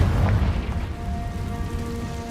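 A Confringo spell blast in Hogwarts Legacy: a loud, low booming burst at the start that decays into a rumbling tail with faint ringing tones, heard alone.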